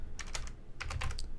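Quick bursts of typing on a computer keyboard, two short runs of crisp key clicks separated by a brief pause, close and fairly quiet with no talking.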